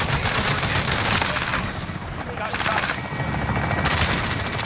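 Rapid automatic gunfire in a Call of Duty shooter game comes in dense loud bursts with short pauses, mixed with a low mechanical drone and booms.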